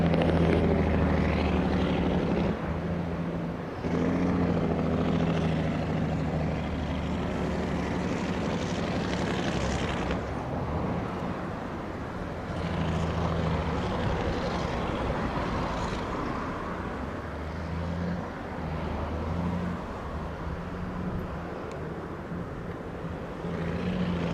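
An airliner on approach at Sangster International Airport in Montego Bay gives a sustained, loud engine roar and rumble that swells and fades slightly across the stretch, with no talk.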